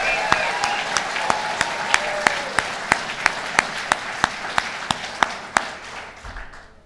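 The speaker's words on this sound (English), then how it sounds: "that's a pretty good cheer, Barb." A crowd at a governor's announcement event at the Hotel Saranac applauds steadily and fairly loudly, with single sharp claps standing out, fading toward the end.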